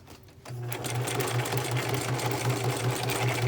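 Sewing machine stitching along the bottom pocket of an altered book ephemera holder, a steady close rapid needle rhythm starting after a brief pause and running continuously, with no talking.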